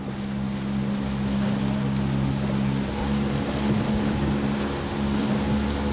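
A heavy outboard motor drives a loaded riverboat carrying cargo and passengers along a dangerous stretch of the Lower Urubamba River in Peru, a loud steady drone with low hum and rushing water throughout.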